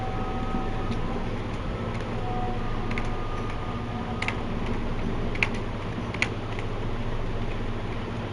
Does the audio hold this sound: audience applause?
no